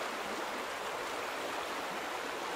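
Water in The Vanishing of Ethan Carter flows steadily with an even, hissing rush like a stream, heard alone and fairly faint with no changes in level.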